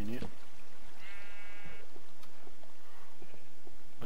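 Sheep in the video game Minecraft bleat once in a short wavering call amid game sounds, with someone talking throughout.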